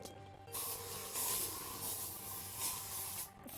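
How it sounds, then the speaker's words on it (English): Spray sound effect from the video game Danganronpa as a room is sprayed: a steady hissing aerosol burst lasting about three seconds, rising and falling slightly in intensity, clear and alone with no talking. "I need to spray this room."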